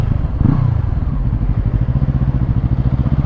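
A 2021 Yamaha MT03 motorcycle engine thrums steadily up close while the rider slows with the rear brake, a dense low rhythmic pulse holding throughout with a brief rise near the start.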